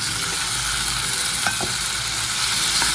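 Ginger garlic paste and tomatoes sizzle steadily in a hot pan, a continuous close frying hiss with a few faint scrapes of stirring.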